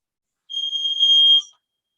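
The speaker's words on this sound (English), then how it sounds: "someone's fire alarm going off" A fire alarm goes off in someone's home, a steady high electronic tone sounding for about a second alone, with no talk over it.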